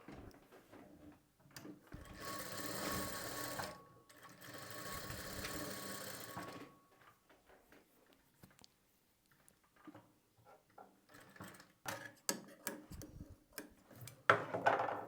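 A sewing machine stitches fabric with a sustained whirring run of about five seconds, then falls into short stop-start bursts and light mechanical clicks and ticks.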